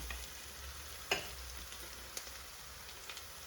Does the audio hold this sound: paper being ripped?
no